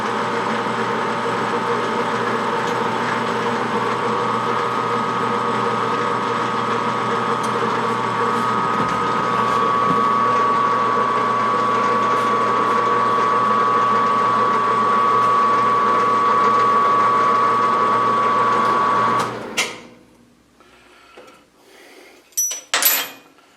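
A lathe turning at 60 RPM while cutting threads gives a steady, loud mechanical whir with a constant tone for about nineteen seconds, then stops, leaving a few scattered clanks and knocks.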